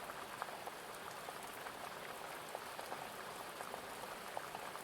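Steady rain falling on surfaces at night outdoors, a dense even patter with scattered sharper drops throughout, moderately faint and continuous with no voices.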